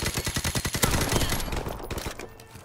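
Video game gunfire fired through a wall: a rapid burst of automatic shots in quick succession, loud and close, then trailing off into fainter scattered fire.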